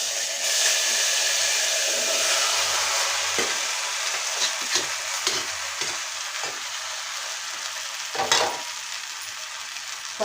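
Vermicelli and fried coconut sizzle steadily in a hot pan, a dense continuous frying hiss with occasional scraping stirs, loud and close, no voices.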